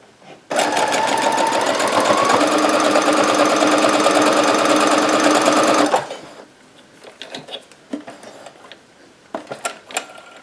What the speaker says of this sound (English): we are sewing the last one